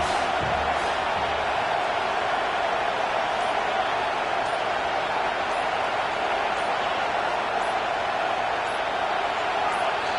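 Stadium crowd roaring at a college football game, Louisiana Ragin' Cajuns against Memphis, a dense, constant wash of distant cheering and noise that holds steady throughout with no breaks.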